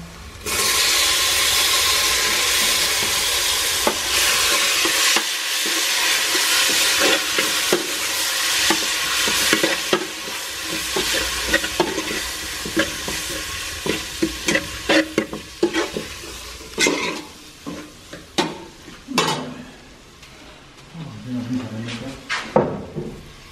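Tomatoes are stirred and fried in a pan for Punjabi chicken curry, a steady loud sizzle at first, then scraping strokes of a spoon with knocks and clinks as the frying quiets.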